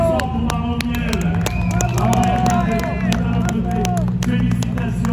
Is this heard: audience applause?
yes